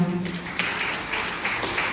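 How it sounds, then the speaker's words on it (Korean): Wedding guests applaud at a ceremony, a steady wash of clapping from a crowd that swells slightly in bursts, with a voice briefly audible underneath. "뜨거운 박수 부탁드릴게요"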